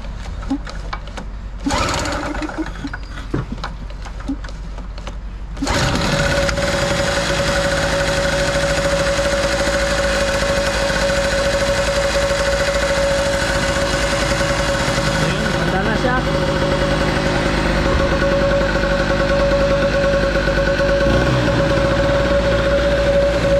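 A Nitto two-stroke generator that had refused to start is pulled over with a brief sputter, then catches after a few seconds and runs loud and steady with a buzzing, close engine drone until the end.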